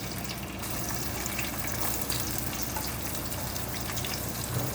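Onions sizzle and crackle steadily in hot oil with cumin and mustard seeds, a dense, continuous frying hiss at close range with no voices.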